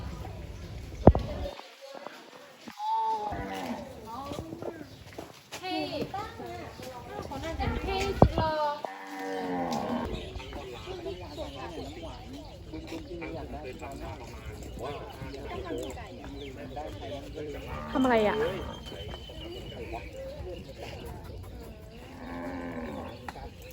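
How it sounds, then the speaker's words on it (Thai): Cattle moo on a farm in Suphan Buri, Thailand, with several low, drawn-out calls scattered through the scene, near and moderately loud, while people talk throughout. "ตัดภาพมาที่วัว"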